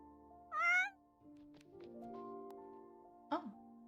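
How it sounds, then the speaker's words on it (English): A cat meows in the Sims 4 life-simulation game, two short high-pitched meows near and clear, separated by a quiet stretch of game background tones. "We just want another cat."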